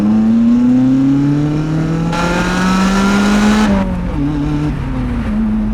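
A Lotus Elise sports car drives a twisty mountain road, its engine rising steadily in pitch as it accelerates, swelling to a loud wide-open roar, then dropping briefly on a shift before climbing again, close and continuous with no talk.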